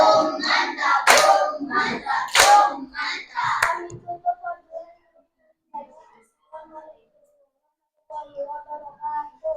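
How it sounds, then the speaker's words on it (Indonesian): Children in a classroom clap their hands in applause for about four seconds, a dense and loud burst. Quieter speech follows after the clapping stops. "Beri dia tepuk."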